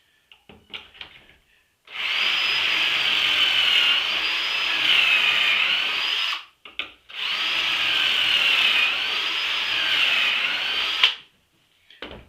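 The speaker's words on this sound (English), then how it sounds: "So I'm going to drill the holes on the back side then, the face that ain't good." A power drill bores holes into the back face of a wooden tool stand, giving two long, loud whining runs of about four seconds each with a short pause between them.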